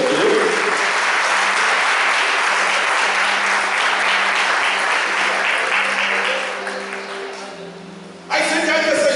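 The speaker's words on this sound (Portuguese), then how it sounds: "pode aplaudir o Senhor aí, pelo amor de Deus." A church congregation at a Sunday evening service breaks into loud, sustained applause with a voice over it, then the clapping thins and fades before cutting off abruptly.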